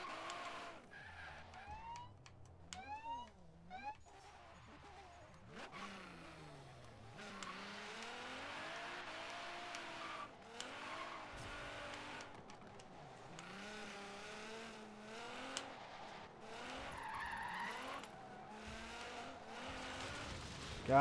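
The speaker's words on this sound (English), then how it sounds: "BMW's a V8 car. It sounds goodish." BMW V8 engine in Forza Horizon 3, revving and shifting with rising and falling pitch sweeps, steady and fairly quiet across a long stretch of racing, with no talk.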